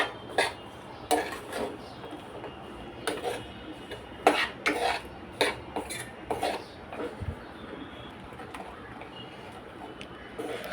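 A spoon scrapes and clinks against a pan as jaggery melts, sharp irregular taps and rasping strokes close by over a quiet background.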